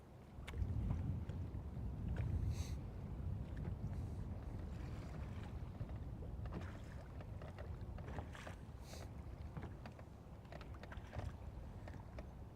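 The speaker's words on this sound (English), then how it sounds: "the wind is throwing us off" Wind blowing over a fishing boat out on Lake Guntersville: steady, gusting rumble buffeting the microphone throughout, loudest early on, with faint creaks and knocks from the boat and no clear talk.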